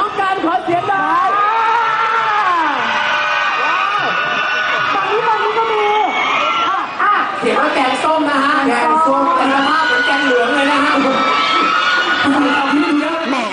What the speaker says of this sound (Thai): เสียงกรี๊ดดังกระหึ่มตั้งแต่เปิดงานเลยละค่ะ